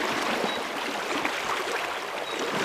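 Fast-flowing river water rushes around a wader pushing upstream while fishing for wild brown trout, a dense, steady close-up hiss and gurgle with no voices.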